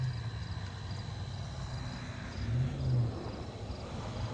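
Road traffic passes along a street, a low steady rumble of vehicles at moderate distance, one swelling slightly louder midway as it goes by, with no talk.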